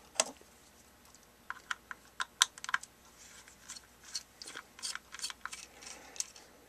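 Screws come out of a BFG 9800 GT video card's chip mount as a scattered run of small, close, faint metallic clicks and ticks, with no talking.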